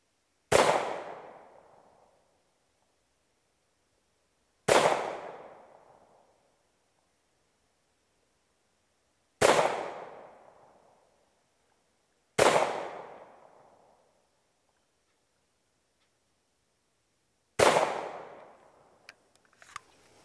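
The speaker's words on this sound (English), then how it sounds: "I'm shooting 5-shot groups just to account for any user or operator error" Five loud, sharp gunshots from a SAR USA K2 .45 pistol firing Hornady 185-grain XTP rounds, spaced several seconds apart with a long decaying outdoor echo after each, followed by a few faint clicks.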